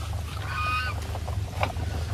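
Female Muscovy ducks on a farm give a few short, nasal, honking calls over a low steady rumble, fairly near and moderately loud.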